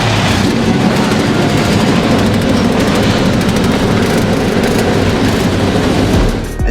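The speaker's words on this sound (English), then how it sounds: "Drivers, start your engines!" NASCAR stock car engines start up and rumble together at Rockingham, a loud continuous low roar from many cars that holds steady and then cuts off at the end.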